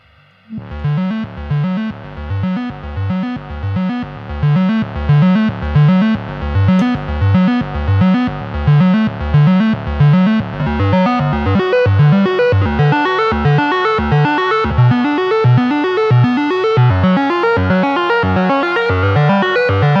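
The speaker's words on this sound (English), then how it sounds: "when you sync the oscillators, the pitch for oscillator 2 almost becomes like the filter" A buzzy, harmonically rich tone from Arturia's Korg MS-20 V software synthesizer, with oscillator sync pitch sweep, repeats in a steady pulsing rhythm while its timbre sweeps and shifts, growing brighter and denser, loud and sustained.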